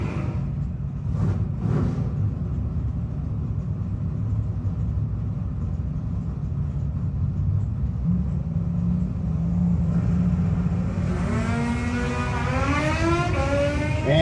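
Drag racing cars, including a Mustang, run at a no-box 660 shootout. A steady engine rumble builds into a loud, rising rev that sweeps upward near the end.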